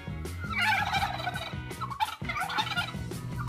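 Three turkeys gobbling together beside a rooster, repeated loud, rattling gobble bursts close by, two main volleys with a brief gap between them.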